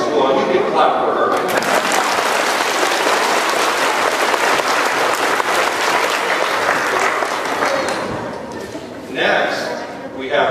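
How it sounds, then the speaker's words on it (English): Audience applause at an educator award ceremony, sustained steady clapping from a crowd for about eight seconds before fading, with a voice briefly speaking near the end. "You can clap for her."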